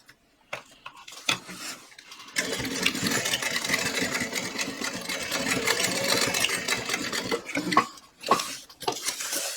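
A sewing machine runs steadily for about seven seconds, basting backpack handle pieces down at a 1/8 inch seam allowance, with a few light clicks and handling taps before and after the stitching.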